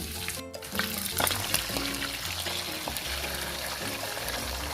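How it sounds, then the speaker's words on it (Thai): A steady, loud sizzle of eggs frying in hot oil in a wok, heard close, with a few soft scrapes and taps in the pan. "อนนี้เราก็จะเอาไข่ลงนะคะ"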